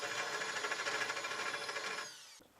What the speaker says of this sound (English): I'm going to work my way up through the drill bit sizes till I get to 1/2 inch, and I only am drilling through one side.